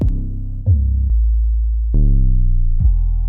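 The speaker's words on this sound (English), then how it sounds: "you can have all sorts of different 808 sounds like this" Deep booming 808 bass hits, several long sustained notes that slide and change pitch, loud and heavy with a buzzy, distorted edge.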